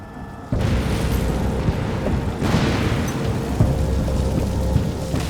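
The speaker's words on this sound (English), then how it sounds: "A huge explosion of oil and gas has ripped through the deep water horizon" A sudden, heavy blast of oil and gas explodes on the Deepwater Horizon drilling rig in the Gulf of Mexico, becoming a sustained, roaring rumble that churns on loudly with no voices.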